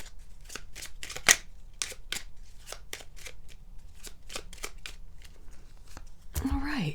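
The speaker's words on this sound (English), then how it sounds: "I'm shuffling these, but I need to be giving you an Angel Whispers card" Tarot and Angel Whispers cards riffle and snap in a quick, rhythmic run of shuffles close by, with a louder slap partway through, and a voice begins speaking at the end.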